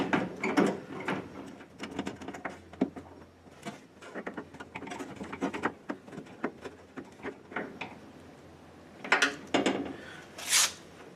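Tightening bolts on a Mustang door window during a door glass and vent window install: a series of short ratcheting clicks and metallic taps in irregular bursts, close by and fairly quiet, with no talking.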